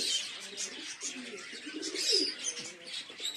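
Pigeons coo softly in the rain, close by in low repeated murmurs, over a steady wash of rainfall hiss.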